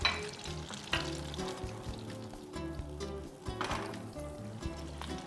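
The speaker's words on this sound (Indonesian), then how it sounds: "Kita tuang cincangan bawang putihnya." Chopped garlic frying in butter, a close, steady sizzle with occasional stirring scrapes and a low background hum, continuous throughout.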